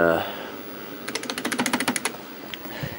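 A Tandy 1000 SX computer keyboard is typed on in a rapid burst of about a dozen sharp, clacky keystrokes, then a lone final key press, following a brief voice at the start.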